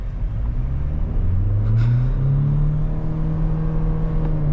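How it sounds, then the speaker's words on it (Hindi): A diesel Mahindra Thar accelerates hard through its gears, the close engine drone climbing in pitch and dropping back at each shift, with no voices. "एक चीज चेक करने का मेरे को काफी टाइम से मन था कि हर गियर में गाड़ी कितना भागती है मैक्सिमम।"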